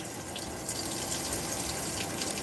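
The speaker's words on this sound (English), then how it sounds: "Now it's time for the rinse cycle. Let the rinse commence." Water pours steadily into a Whirlpool WTW5057LW0 HE top-load washer during the rinse-cycle fill, a constant moderate rushing hiss with no voices.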